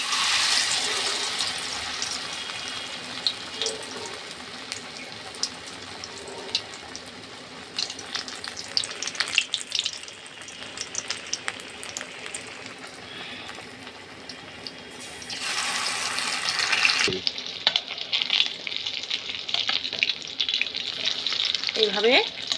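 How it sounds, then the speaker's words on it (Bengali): Battered banana flower fritters frying in hot oil make a steady, close crackling sizzle throughout, with louder bursts near the end as the fritters are turned. "কেউ ঠিক আমি এইভাবেই ভেজে নেব"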